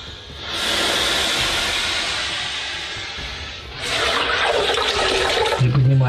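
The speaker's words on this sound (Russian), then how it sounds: "И, конечно, омываем ножки, очищаем." Water pours and splashes steadily as feet are washed in a Russian black bathhouse in a village near Tver, a loud continuous rushing stream that shifts tone partway through, with no talking.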